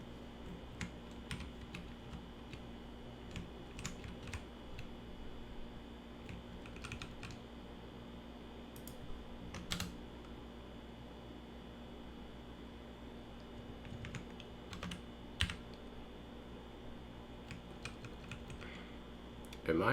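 Soft, quick clicks of typing on a computer keyboard patter irregularly and quietly over a faint steady hum.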